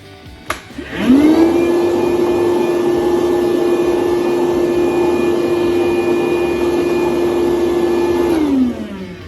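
A vacuum cleaner starts up and runs steadily at close range with a strong, even whine while cleaning refrigerator condenser coils, then winds down near the end.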